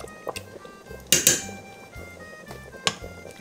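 A utensil stirs a tomato paste mixture in a cooking pot, giving a few sharp metallic clinks and scrapes against the pot over a low background, close by and unaccompanied by talk.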